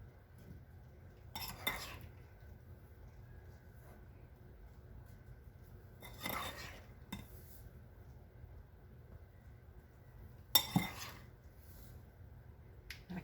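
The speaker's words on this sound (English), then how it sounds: "let's put this ambrosia in a pretty little serving dish here." Ambrosia is spooned into a small serving dish, three brief clusters of soft scraping and clinking spaced a few seconds apart, quiet and close over a faint low background hum.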